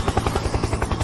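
Helicopter rotor chop: a steady, loud, rhythmic thudding of blades with engine whine, filling the clip with no talk.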